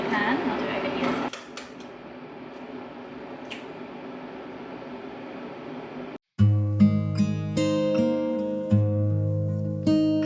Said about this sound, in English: And then I just can crack the eggs into my pan.